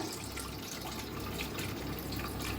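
Water trickles slowly as it is drained off soaked grain, a soft, steady watery flow heard alone and fairly faint throughout.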